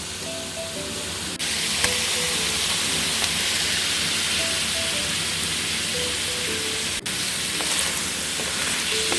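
Mussels, calamari, basa fish and prawns sizzle and fry in a pan for a Thai seafood salad, a steady close hiss with faint bubbling that runs the whole time without pause.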